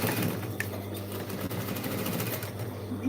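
A sewing machine runs steadily while stitching a jeans bag back and forth several times, giving a continuous mechanical hum with faint repeated ticking close by.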